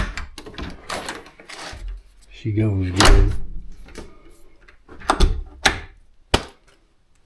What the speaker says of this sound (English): I got the door locks on.